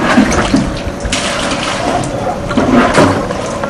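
Floodwater is scooped out of flooded living rooms, with repeated splashing, sloshing and pouring of water up close, uneven and continuous.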